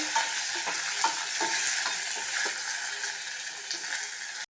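Green chillies, curry leaves and coriander sizzle and fry in oil in a pan for a carrot and beans poriyal, a steady close crackle with occasional scrapes of a spoon stirring.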